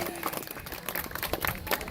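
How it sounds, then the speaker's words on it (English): Audience applause for a volunteer named Ron at a Renaissance fair in Gainesville, a fairly quiet, steady patter of clapping from a modest crowd lasting about two seconds. "Give Ron a big round of applause"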